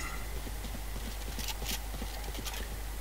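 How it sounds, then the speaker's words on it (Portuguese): A horse trots with steady clip-clop hoofbeats in the video game Valorant, the hooves close and distinct over a constant background of game sound. "Cavalo."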